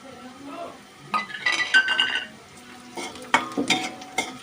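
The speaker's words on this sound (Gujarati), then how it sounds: "તો હવે આપણા કાંદા સડવા આવી ગયા છે" Onions and ginger-garlic paste sautéing in a pan for egg bhurji gravy, with a soft sizzle under bursts of spoon stirring and scraping against the pan, close and moderately loud.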